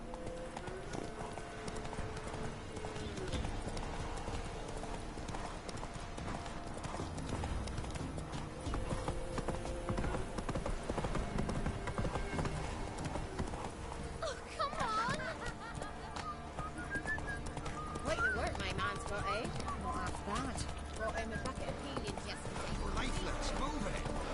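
Horse hooves clip-clopping at a steady galloping pace in The Witcher 3, loud and continuous for the whole stretch, with game music and voices mixed underneath.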